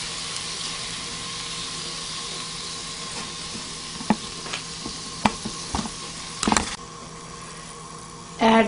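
Katlamma frying in oil in a kadai, a steady sizzle with a few sharp clinks and scrapes scattered through, and a louder burst of crackling near the end.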